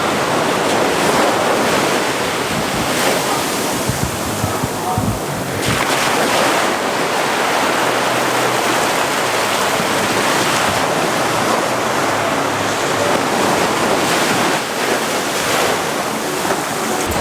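Sea waves wash up the sand at Chaweng Beach on Koh Samui, a steady close roar of surf with rolling swells and some wind buffeting the microphone throughout, with no voices.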